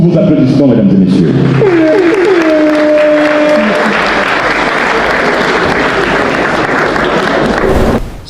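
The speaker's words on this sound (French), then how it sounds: "Je vous prie de l'accueillir sous vos applaudissements, mesdames et messieurs." Loud, sustained applause fills a gala hall in Paris, a dense wash of clapping from a large audience that swells early and holds steady for about eight seconds before cutting off, with a few voices and whistles poking through at the start.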